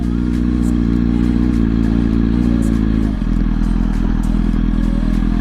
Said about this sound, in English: Taking the ZX6R off-road now.